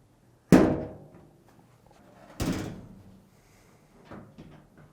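The top cover of a Samsung dryer is pushed back into place until it locks: a loud, sharp thunk, a second softer thud about two seconds later, then a faint click, all close by with quiet between.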